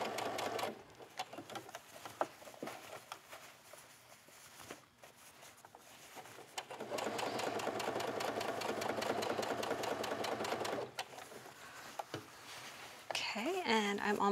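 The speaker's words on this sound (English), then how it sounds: "I'm just sewing right on top of that previous line of stitching." A sewing machine stitches along a sleeve, its quick rhythmic mechanical chatter running through the clip and speeding into a steady whir, while someone talks quietly over it.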